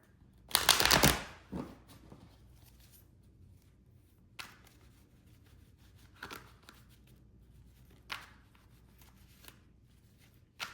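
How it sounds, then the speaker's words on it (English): A quick riffle shuffle of tarot cards up close, followed by a few soft, scattered card taps and slides in a quiet room. "And the tarot we do shuffle."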